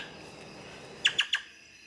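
Jays (gralhas) near araucaria trees give three quick, sharp squawking calls in rapid succession, fairly close and loud above a faint background hiss.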